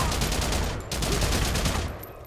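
Dense automatic and rapid gunfire from the PS3 shooter Haze rattles continuously and loudly for the whole stretch, with a brief dip in the barrage midway before the volleys resume at full intensity.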